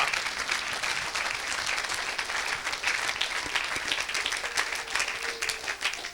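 A church congregation applauds during a Sunday service, a dense, continuous wash of many hands clapping at steady loudness, with no speech over it.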